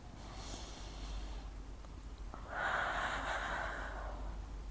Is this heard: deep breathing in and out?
yes